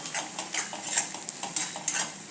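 Tomato masala being sautéed in a pan, heard as a series of short scraping stirs with a spoon against the pan over a soft frying hiss, close and unaccompanied by voices.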